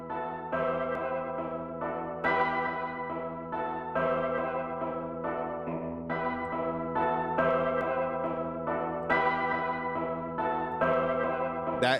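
An Omnisphere arpeggiator synth in a trap beat runs a fast, continuous stream of bright repeating notes, with accents recurring in a steady cycle. The texture is dense and sustained, with no talking.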